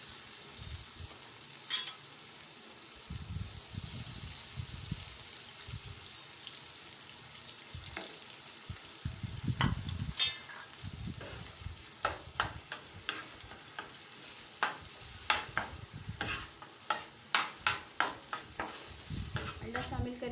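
Egg stirred into fried tomato masala in a pan gives a soft sizzle with scraping spoon strokes that come in bursts and grow more frequent toward the end.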